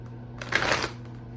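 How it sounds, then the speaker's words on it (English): A brief riffle of tarot cards being shuffled, a soft papery burst lasting under a second over a steady low hum, with no talking. "One more good shuffle."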